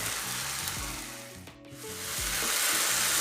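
Chopped tomatoes sautéing in a pan for vada curry gravy, giving a steady close sizzle that dips briefly in the middle and then returns fuller, with low knocks from stirring.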